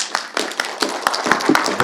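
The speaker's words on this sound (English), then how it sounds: "give her a big round of applause" An audience at a closing panel of an international forum on European Ukraine bursts into dense, lively applause, many hands clapping quickly and loudly throughout.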